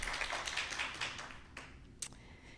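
Audience applause at a state senate candidate debate, a brief burst of dense, scattered clapping from a small crowd that thins out after a second or so.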